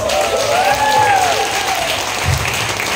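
Audience applause at a Filipino religious gathering, steady dense clapping filling the room at close range, with a faint voice briefly audible above it.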